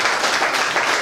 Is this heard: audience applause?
yes